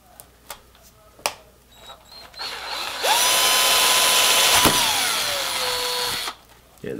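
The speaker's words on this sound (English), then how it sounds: "all I'm going to do is drill through that and put a little hole right in the center" A power drill bores a small hole through the eye of a fiberglass Borderlands Psycho cosplay mask, a steady close whine lasting about three seconds that drops in pitch as it breaks through, after a few light clicks and handling taps.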